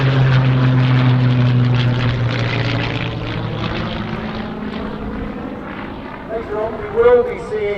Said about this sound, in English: We will be seeing Hurricane UZ865, that was the last of the many, the last one built